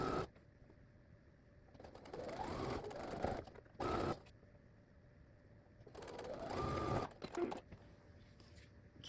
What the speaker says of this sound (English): we're going to sew down the side using a 1/4 inch seam allowance